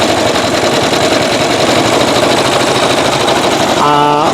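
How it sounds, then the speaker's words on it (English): An embroidery machine stitches lace with metallic thread, giving a steady, loud, fast mechanical chatter throughout, with a few short electronic beeps near the end. "So I'm going to let that sew out, and then I'll come back and show you when that one's done."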